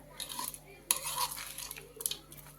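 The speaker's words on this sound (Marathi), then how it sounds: "हे झालं चित्रांना आपलं तयार असं मिक्स करून घेऊया" A spoon scrapes and clinks against a pan as chitranna spiced rice is stirred and mixed, quiet, close metallic taps and scrapes in an irregular rhythm, no talking.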